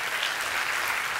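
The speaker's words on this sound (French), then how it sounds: "On va une nouvelle fois vous applaudir, docteur Luc Julia, s'il vous plaît" An audience applauds at an evening talk on generative AI, a dense, continuous wash of clapping from many hands that holds at an even level for a brief moment with no voices.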